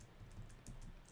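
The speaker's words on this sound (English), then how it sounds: "So I'm typing over here right now in the prompt in my window manager" Quick, faint keystrokes on a computer keyboard at a Debian Linux prompt, a handful of soft clicks in an irregular rhythm against quiet room tone.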